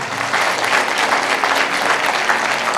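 A congregation at a sermon claps loudly and continuously, a thick, even roar of many hands sustained throughout with no talk over it.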